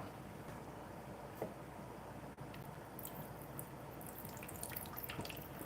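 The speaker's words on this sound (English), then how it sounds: "put some water over here." Water is poured steadily, a continuous close trickling and splashing with a few brighter drips and splats, no voices.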